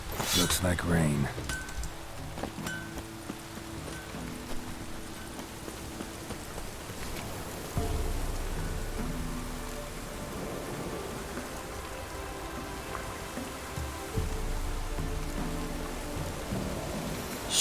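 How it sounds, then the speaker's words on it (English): Steady rain pours throughout a rainy scene in The Witcher 3, with low thunder rumbles swelling around eight and fourteen seconds and occasional hoofbeat-like clops, while a voice speaks briefly near the start. "Looks like rain."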